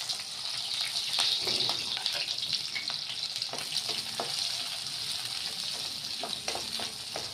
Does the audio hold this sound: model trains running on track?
no